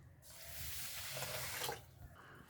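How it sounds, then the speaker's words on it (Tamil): Water running into a kitchen sink or pot while rice is washed by hand, a steady close rush of water with light sloshing for about two seconds, then quieter. "இப்போ அரிசி 2 கழுவி வச்சுருக்கேன்."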